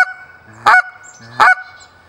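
A Haydel's Shortreed Canada goose call with an acrylic end piece gives two sharp, bright honks, spaced under a second apart. Each is loud and close, with faint breathy clucks before it.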